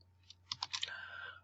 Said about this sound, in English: I had to click in here, and I could type the name.